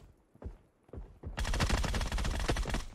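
Gunfire in the battle royale game PUBG: a few sparse shots open, then a dense, continuous burst of rapid automatic fire takes over and holds loud and close to the end.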